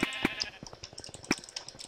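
Sheep in the Minecraft Mineplex video game bleating, several short wavering bleats in quick succession, close and fairly loud over light background clatter.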